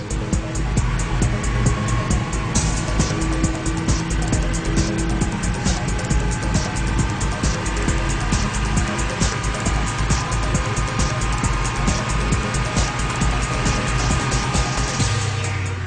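A 520 horsepower Porsche drives flat out on a German autobahn, its engine roaring loud and continuous from inside the car, with steady wind and road noise and no break.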